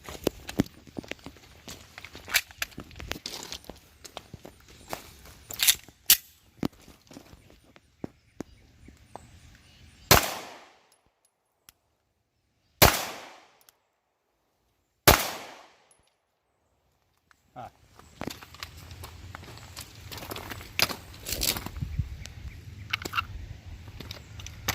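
Three sharp, loud 9mm pistol shots ring out a few seconds apart from a longer-barrel pistol at an outdoor range, each crack decaying quickly into near silence, with faint handling noises and movement before and after.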